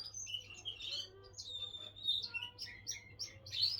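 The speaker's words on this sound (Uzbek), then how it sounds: "Sayrab o'tiribdi qush." A songbird sings alone in a quiet setting, a fairly close, bright run of chirps and short warbled phrases repeating without pause.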